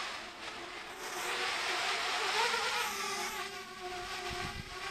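A Parrot Bebop drone's brushless motors hum steadily as it descends, a continuous high buzzing whine that swells and eases slightly in pitch, heard from a distance with a faint wash of background noise and no talking.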